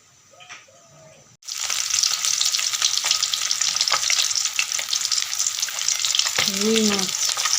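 Red lentil dal cooking in a pan in a home kitchen, giving a steady, loud broadband sizzle of frying that starts abruptly after a quiet moment and runs continuously, with a brief birdlike chirp near the end.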